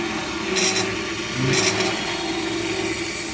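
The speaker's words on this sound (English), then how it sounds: "just give it a couple of scrapes with the round nose" A round nose scraper works spalted beech on a spinning lathe, two short rasping scrapes over the steady hum of the machine.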